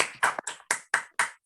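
A few sparse claps from an online meeting participant, about five separate sharp hand claps spaced unevenly, close to the microphone and otherwise quiet.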